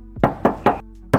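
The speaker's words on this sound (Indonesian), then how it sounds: "Dan untuk bodinya kita tes ketok lagi." Knuckle knocks on the body panel of a 2011 Mazda 2 R automatic city car, three quick even raps followed by a short pause and a fourth knock, close and crisp with no talk.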